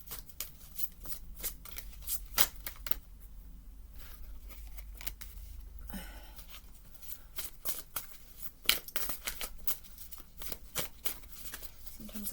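Tarot cards being shuffled over and over, a steady stream of crisp riffling snaps and flutters, close up with no one speaking.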